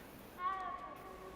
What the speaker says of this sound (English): it looked like a cat and it let me stroke it